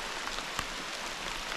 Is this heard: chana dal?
no